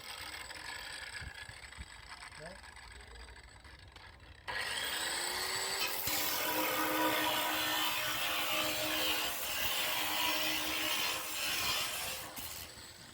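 A 9-inch grinder bites into a 500mm galvanized steel pipe at a work site, its quieter hum jumping partway through to a loud, sustained abrasive cutting roar that holds for several seconds.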